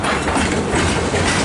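A train led by locomotives heading east thunders past close by, a loud continuous rumble and rattle of wheels and heavy engine noise.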